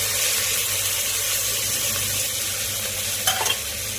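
Washed fenugreek leaves drop into hot oil in a pan and are stirred, giving a steady, close sizzle with a soft clatter near the end.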